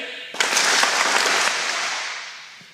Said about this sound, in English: clap 5 times, and that's our thank you salute to all the coaches